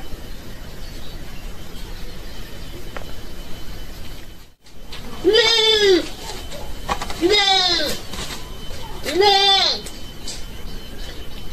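Three wavering bleats, evenly spaced a couple of seconds apart, ring out clearly over a steady background hiss, close by and fairly loud.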